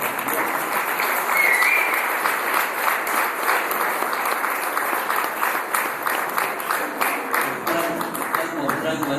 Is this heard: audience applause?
yes